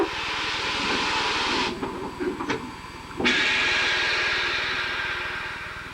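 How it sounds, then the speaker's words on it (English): Steam locomotive hauling a passenger train across the high Lobato Trestle over Wolf Creek, a steady loud rumbling roar that dips briefly midway before resuming at full strength. "the road locomotive brings the rest of the train across"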